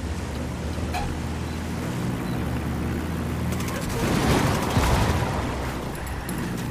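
Gunfire in Ghost Recon Wildlands, a dense, rumbling wash of shots and explosions swelling toward the end, with voices mixed in.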